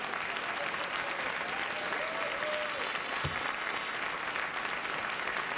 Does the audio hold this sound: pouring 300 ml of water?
no